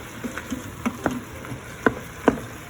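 Ground turkey sizzles softly in a pan for chili while a utensil mashes and breaks it up, giving a faint steady crackle broken by several sharp scraping taps.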